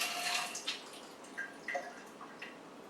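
Water trickles and drips faintly as it drains out the bottom of a potted phalaenopsis orchid after a thorough soaking, in soft scattered splashes close by.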